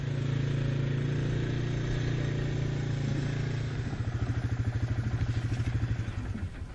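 A vehicle towing a Milk Bar 50 mobile calf feeder drives along, its engine droning steadily before breaking into a rapid, pulsing rumble, with no talking.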